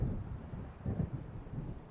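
Thunder of an approaching storm in the video game Alan Wake, a low distant rumble rolling steadily with faint wind-like noise and no talk.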